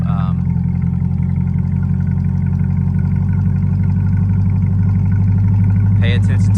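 A Corvette C8 with a Corsa Extreme exhaust idling, a steady loud low rumble with a fast, even pulse that continues throughout, with a brief higher blip near the end.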